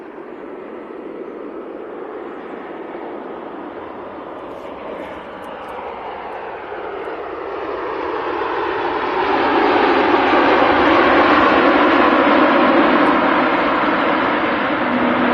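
An Emirates A380 airliner on its takeoff roll and climb, a heavy engine roar that builds from a distant rumble to a loud, sustained thunder close by.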